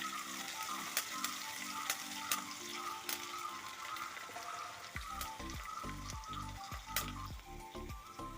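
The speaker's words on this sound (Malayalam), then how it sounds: "അതിലേക്ക് ഒരു 2 കറിവേപ്പിലയും കൂടെ ഇട്ട് ഇളക്കാം." Crushed onion and curry leaves sizzle and fry in hot oil for a Kerala fish curry, a steady crackling hiss with sharp pops, and a spoon stirring in rhythmic scrapes during the second half.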